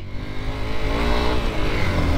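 A motorcycle climbing a hilly road in Nuwakot, its engine droning steadily and building slightly in pitch as it pulls uphill, loud and close throughout.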